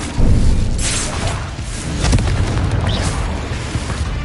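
A Confringo fire spell explodes in Hogwarts Legacy, giving a loud, booming blast that sits over dense low rumble and lingering combat noise with no pauses.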